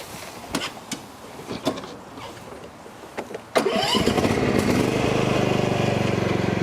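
A Cub Cadet lawn mower engine is cranked with a few short bursts, then catches and runs at a loud, steady idle close by.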